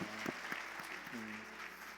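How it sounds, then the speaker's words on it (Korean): Church congregation in a Korean church giving encouraging applause, a faint, brief patter of clapping heard under a voice and sustained tones. "더 수고하신 분들을 위해서 한번 격려의 박수 한번 해주시면 감사하겠습니다"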